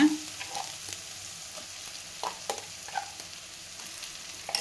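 Ground coriander paste frying in a pan for a Tamil coriander thokku, with a soft, continuous sizzle broken by occasional scraping and clinking as it is stirred, close and fairly quiet, with no talking.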